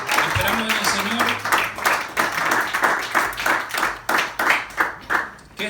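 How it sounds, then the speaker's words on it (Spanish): A church congregation at a Friday service claps loudly and rhythmically in unison, steady beats running throughout with a voice and music-like tones underneath. "Damos un fuerte aplauso al Señor."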